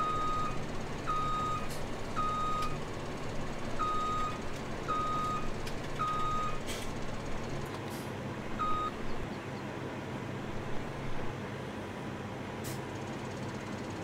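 A truck reversing outdoors on a farm, its backup alarm giving a steady series of evenly spaced high beeps over a continuous low engine rumble, moderately distant.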